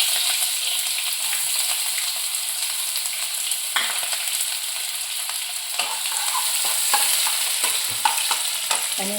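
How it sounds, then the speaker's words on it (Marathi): Onion frying in a hot tempering of cumin, mustard seed and curry leaves for a spicy vegetable dish, with a continuous loud sizzle and repeated scraping stirs of the spoon in the pan. "हा थोडा कांदा घालून द्यायचा"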